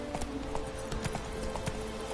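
A horse galloping in The Witcher 3, a brisk rhythmic run of hoofbeats, close and steady, over a low background hum.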